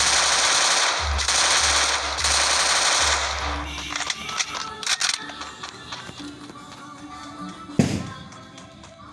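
Rapid automatic gunfire rings out in the mobile shooter game Free Fire, several loud sustained bursts up close, followed by scattered thuds, taps and a single heavy shot as the shooting tapers off.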